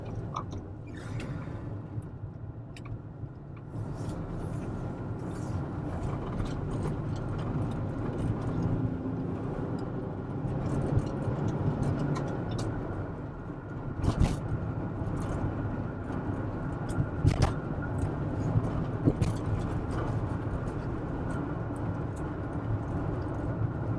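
A bright yellow VW Type 2 T3 (T25) Devon camper van with a fully synchro gearbox sets off in first gear. Its engine gives a steady low drone and rumble from inside the cabin, with scattered clicks and knocks, and no talk.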